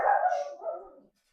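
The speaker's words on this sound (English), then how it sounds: "Sorry, that's my dog." A small Chihuahua-Yorkshire Terrier cross dog lets out a single loud, drawn-out bay close by indoors, trailing off into silence.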